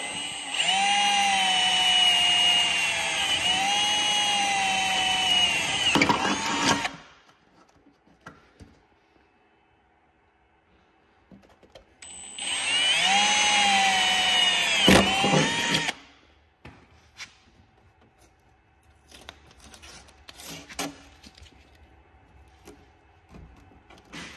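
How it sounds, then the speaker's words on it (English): A power drill whines loudly in two sustained bursts through a car bumper, its pitch dipping as it bites through, separated by a quiet pause. "You're gonna re-drill."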